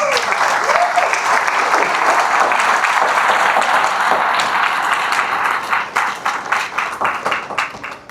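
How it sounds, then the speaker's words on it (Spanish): A church congregation applauds loudly in dense, sustained clapping with a few cheers and a rising vocal tone early on, thinning into scattered individual claps toward the end. "Denle un aplauso a Jesús."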